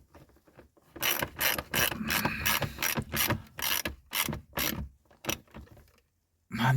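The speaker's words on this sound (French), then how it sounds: "Là, maintenant, on va y aller au cliquet" Ratchet wrench working a bolt while the dashboard of a Peugeot 205 is dismantled: a close, crisp series of rapid clicking bursts in an uneven rhythm, each pawl ratcheting in short runs with brief pauses between strokes.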